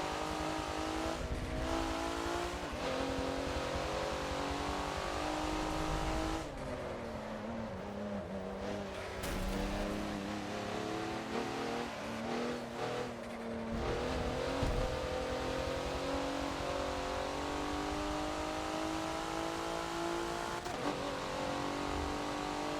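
An R-Class race car in Forza laps Hockenheimring's national circuit, its engine roaring loud and steady with rising and falling revs through gear changes and brief tire squeal, with no talk.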